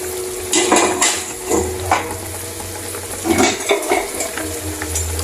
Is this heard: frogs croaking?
no